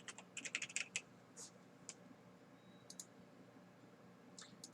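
Typing on a computer keyboard, quick bursts of sharp, close key clicks in uneven clusters with gaps, then a few isolated taps, fairly faint overall.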